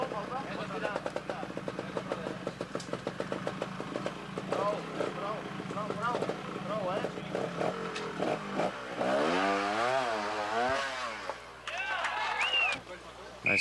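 A trials motorcycle picks its way over rocks at a 1989 world championship round in Canada, its engine revving and sputtering in bursts of throttle under continuous commentary.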